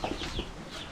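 Hens on a small backyard flock clucking in short, soft bursts, fairly close, with no talking over them.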